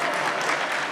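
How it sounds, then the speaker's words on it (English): An audience at an awards evening applauding, a dense, steady wash of many hands clapping for the full second, loud and close with no gaps. "I knew you guys would clap for that."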